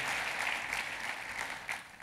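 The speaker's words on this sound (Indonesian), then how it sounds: "Kita kasih tepuk tangannya yang paling meriah buat Tuhan kita." Church congregation applauding during a service, a continuous, even wash of clapping from many hands, fairly faint and distant, with no talk over it.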